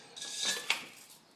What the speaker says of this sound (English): a basket, a stainless steel basket,